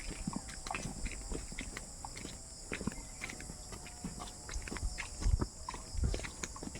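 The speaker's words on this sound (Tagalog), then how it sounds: "Ang kabayo." A horse's hooves clip-clop in an irregular walking rhythm on a rural path, mid-distance, over steady insect-like background hiss, with a few louder hoof strikes near the end.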